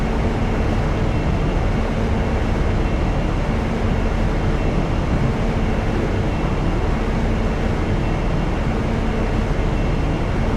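A train runs steadily in Train Simulator Classic, a loud continuous rumble and rolling roar that holds without a break throughout, with no talk over it.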